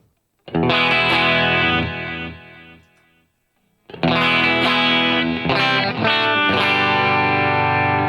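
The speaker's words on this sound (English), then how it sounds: "Now to show you this chorus, it is it's based on a CE2 or the CE1" Distorted electric guitar chords thickened by a shimmering chorus effect modeled on a CE-2 or CE-1, from a Line 6 Pod GO, played loud with a brief fade into near silence before strumming resumes.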